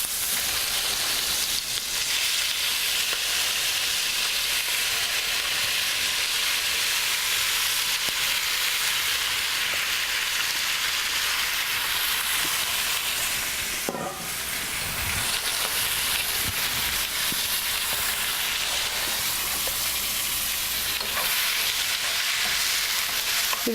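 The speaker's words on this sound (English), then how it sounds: "They start to fry up really well." Shrimp sizzle and fry steadily in a hot wok, a loud continuous hiss with a brief stir or clatter midway and no talking over it.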